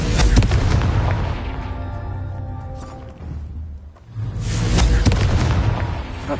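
The Confringo fire spell in Hogwarts Legacy erupts in loud, booming blasts with a rumbling tail, then a brief lull before a second heavy explosion swells up.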